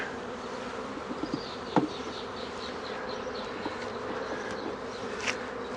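Honeybees buzz steadily around an open hive while a nuc is installed, a dense droning hum close by with a few brief sharper knocks partway through.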